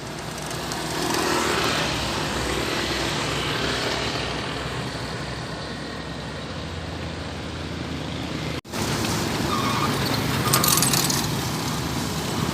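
A bus rolls past on a road in Pandau Jaya, Pasir Putih, its engine rumble and tyre roar building steadily and loud, with a sharp break partway through and traffic noise continuing after.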